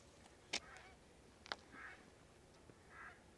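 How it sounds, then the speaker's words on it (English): A bird calls at night beside a cold-weather catfishing spot, giving faint, distant honking squawks spaced out over a few seconds, with a couple of sharp nearby clicks or knocks in between. "Angry bird."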